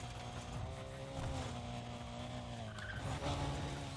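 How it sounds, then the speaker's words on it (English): A car in the Need For Speed Undercover video game doing a handbrake boost skid: continuous tire squeal over a steady engine drone that holds throughout, with a slight rise near the end and no talking. "the initial handbrake boost effect"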